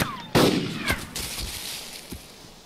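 Explosions and gunfire from the Wasteland video game: a sharp, loud blast near the start, then a few quieter scattered shots and thuds fading back into a low background rumble.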